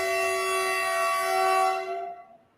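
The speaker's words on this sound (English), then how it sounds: "That is a train." Train horn sounding near a train station, a loud sustained multi-tone blast that holds steady for about two seconds, then fades and cuts off.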